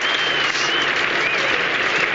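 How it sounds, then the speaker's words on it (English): A cricket crowd applauds England's opening 100 partnership, reached in the 23rd over of a 40-over match; dense, steady clapping fills the whole moment without a break. "And you don't often see a 100 partnership applauded in quite such a manner"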